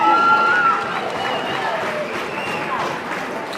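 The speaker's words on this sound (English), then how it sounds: "Let's give them a big round of applause." Audience applause for two boxers who have just gone the distance over four rounds, a steady broad wash of clapping and crowd noise that is loudest at the start and then holds at an even level.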